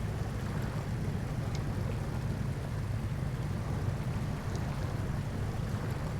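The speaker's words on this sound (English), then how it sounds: "Even though it killed the engine, it's still going through the water." A vehicle in a video game pushes through deep water with its rear engine stalled, giving a continuous broad rushing and sloshing wash at steady loudness with no talking.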